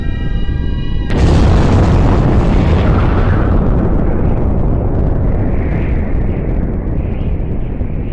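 Massive nuclear bomb explosion effect: a sudden deep boom after a second of quiet tone, then a long, loud rumbling roar that fills the rest of the clip without fading much.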